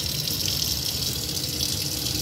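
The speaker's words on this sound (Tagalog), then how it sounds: "Lagyan natin tubig guys." Tap water gushes steadily into a cooking pot for boiling chicharon bulaklak, a continuous close hissing pour with no break.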